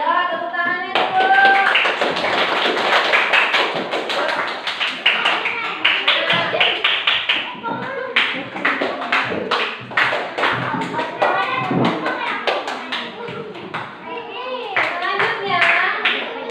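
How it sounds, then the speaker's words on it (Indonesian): A class of schoolchildren claps their hands together in a loud, dense burst that continues steadily and close by, with children's voices mixed in throughout. "Ya, tepuk tangannya dulu."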